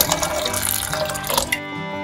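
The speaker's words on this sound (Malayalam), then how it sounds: "അതിലേക്ക് ആവശ്യത്തിനുള്ള വെള്ളം കൂടെ ആഡ് ചെയ്ത് കൊടുക്കാം" Water pours steadily into a pressure cooker holding salted ingredients for a Kerala olan made with bottle gourd. The gushing is close and continuous for about a second and a half, then stops abruptly and leaves quiet.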